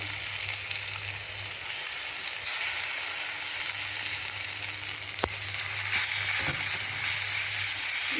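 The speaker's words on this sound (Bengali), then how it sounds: "এটার মধ্যে আমি একটু আদা বাটা আর একটু জিরে গুঁড়ো দিয়ে একটু তেলে কষিয়ে নেব।" Ginger paste and ground cumin fry in oil for a Bengali cabbage dish, giving a loud, dense, unbroken sizzle with a faint low hum beneath and one or two brief utensil clicks; nobody talks.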